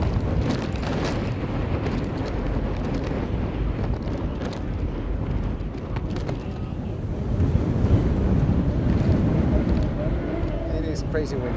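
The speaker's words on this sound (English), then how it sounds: "It is crazy windy." Strong wind buffets the microphone at a sailing practice race in Ireland, a steady loud roar with gusts over water and surf, with someone talking over it throughout.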